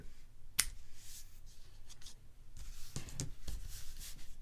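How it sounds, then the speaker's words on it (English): Fishing line fresh off a store-bought spool is snipped off at a plain knot, giving one crisp snip near the start, followed by soft rubbing and handling noises at close range. "Now I'm going to cut that line off at that knot."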